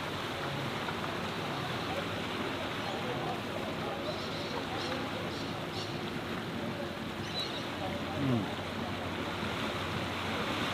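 Steady wash of water and wind aboard a ferry crossing the harbour between Pyrmont and Manly, a continuous broad rushing with a slight low engine hum and no distinct voices.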